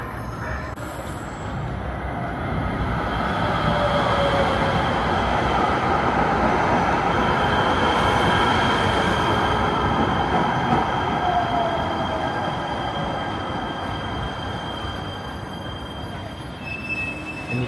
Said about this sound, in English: And you can take that train all the way to Pomona, about 45 miles to the east.